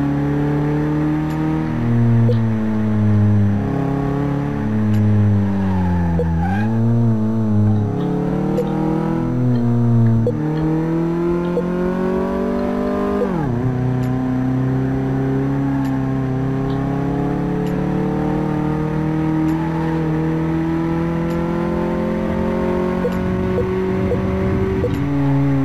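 A video game car engine in Car Mechanic Simulator 2018 hums loud and continuous, its pitch climbing and falling through repeated shifts, with a rasping, very loud exhaust tone and no voices.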